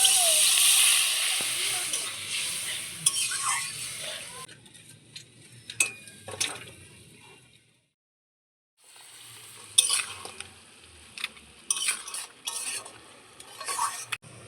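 Katla fish heads cook in spiced masala with water in a pan, a loud sizzle at first fading into softer bubbling with scattered clicks of a utensil, a brief silent gap midway.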